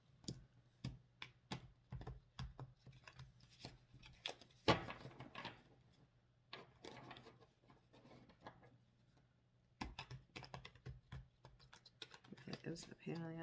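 Stiff tarot cards riffle and slap in irregular bursts, crisp clicks and flutters of a thick deck being shuffled by hand.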